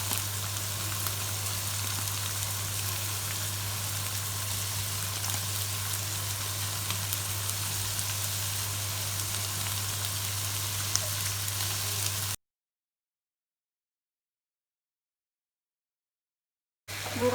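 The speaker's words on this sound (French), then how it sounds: "Vous rajoutez vos épices et vous continuez la cuisson, tout en remuant bien pour que la viande hachée soit vraiment bien émiettée." Minced meat sizzles steadily in a hot pan while being stirred with spices, a continuous dense frying hiss with a low hum beneath, broken by a few seconds of silence before resuming.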